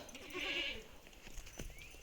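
A goat bleats once in a drawn-out, nasal call, close by, with faint farmyard rustling and a brief knock afterward.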